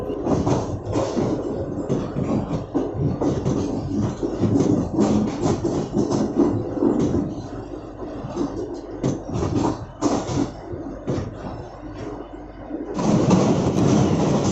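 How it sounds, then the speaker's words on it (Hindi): The Karachi Express rolls along the line toward Multan and crosses the 8 Down Tezgam Express, a loud steady rumble of wheels and carriage rattle with a fresh burst of rushing noise near the end. "जैसे ही हमने शाह फैसल क्रॉस किया तभी हम लोगों को 8 डाउन तेज़गाम एक्सप्रेस का क्रॉस पड़ा"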